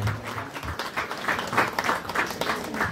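Audience applause at a residents' association award ceremony in Kadakkal, Kerala, as a prize is presented: steady, fairly close clapping from a crowd filling the whole moment, with no talk over it.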